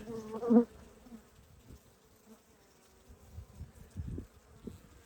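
Honeybees humming softly in an early-spring beehive as they feed on ginseng candy, a low insect buzz with a brief louder burst near the start and scattered handling knocks later.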